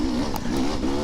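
A KTM enduro motorcycle engine revs steadily at a sustained droning pitch during an enduro play day ride, close and loud, with no talking.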